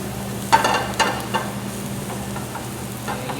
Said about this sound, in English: Saute it for at least quite some time until it's translucent.